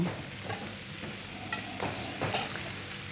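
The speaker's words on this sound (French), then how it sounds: "on a notre petite sauce qui mijote" A sauce simmers in a pan while cuttlefish and potatoes are prepared, giving a soft, steady bubbling sizzle broken by a few light stirring scrapes. It is fairly quiet and close, with no voices.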